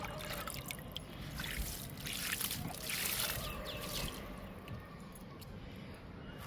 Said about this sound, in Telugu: ఇంకా వాటర్ ఇచ్చేద్దాము